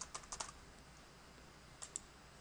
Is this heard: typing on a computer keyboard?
yes